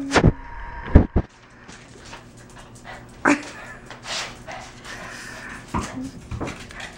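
Dog playing indoors, with sharp yips, thuds and scuffling in irregular bursts, close and fairly loud, against a quiet background with faint voices.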